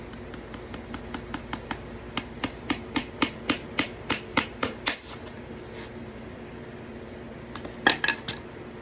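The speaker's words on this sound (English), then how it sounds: "I think I'd be better off nailing in the rear half of the foot" Nails are hammered into a horseshoe on a small, flat horse hoof: a quick run of sharp, ringing metallic taps in steady rhythm, a pause, then a few more strikes, close and clear.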